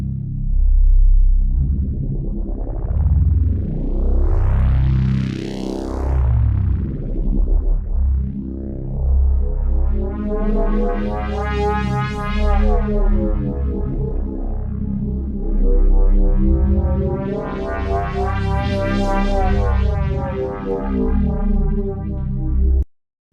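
An Omnisphere 3 polyphonic frequency-shifter synth patch, modulated by aftertouch, plays alone: sweeping, rising and falling metallic tones layered in swelling chords over a low drone for over twenty seconds.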